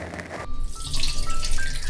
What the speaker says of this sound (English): you're gonna pour your water in